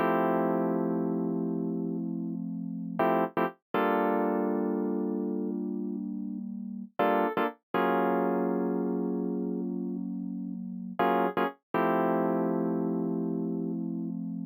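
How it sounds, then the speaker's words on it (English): Shop Touch electric keys playing sustained synth chords with a bright, buzzy tone, each held for about three seconds and broken by short staccato stabs, repeating in a steady cycle with no talk. "The first instrument that I used were these electric keys, and they're called the Shop Touch"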